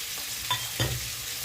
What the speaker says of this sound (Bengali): দিয়ে এবার একটু ভালো করে নাড়াচাড়া করে নিচ্ছি